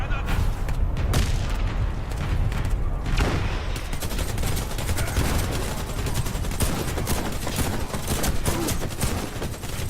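Warface shooter game combat with nonstop heavy gunfire and booming explosions, including a grenade blast, loud and dense throughout, with voices shouting underneath.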